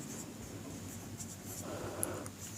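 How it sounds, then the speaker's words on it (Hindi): A math formula written by hand on a board or paper during a Class 8 lesson gives quiet, scratchy strokes in short uneven bursts, with no talk over them. "सो मैं यहां लिख देता हूं"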